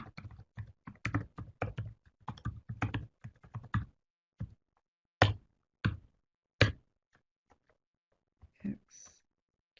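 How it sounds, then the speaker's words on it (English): Computer keyboard typing comes in quick bursts of close, crisp keystrokes, dense at first and then sparser single taps with pauses between. "I'm going to type it into the chat room"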